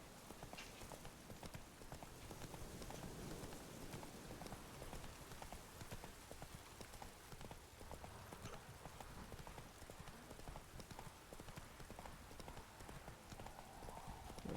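Roach, a horse in The Witcher 3 video game, gallops with a steady, continuous run of rapid clip-clop hoofbeats at low volume throughout.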